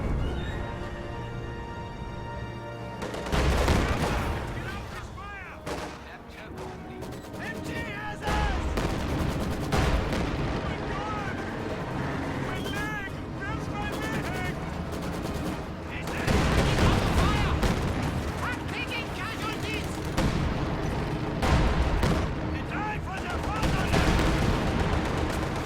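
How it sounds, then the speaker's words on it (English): Grenadiers and a Panther tank fire on a munitions cache in the video game Company of Heroes 2, with heavy bursts of gunfire and booming shots layered over a dense battle din while a voice talks throughout. "Grenadiers and Panther firing on this munitions cache."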